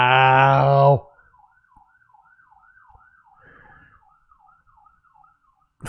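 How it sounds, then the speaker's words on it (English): An ambulance siren in the video game Persona 4 Golden wails in a steady, rapid two-tone warble at moderate volume, following a loud, harmonic tonal burst in the opening second. "Funny enough, an ambulance came by right at this situation."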